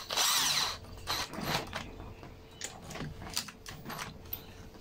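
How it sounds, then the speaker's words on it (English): A power drill whirs loudly in a short burst driving a screw on a Ryobi RLT26CDSN string trimmer, then runs in a few briefer pulses with clicks and handling noises between them. "use the power tool to finalize"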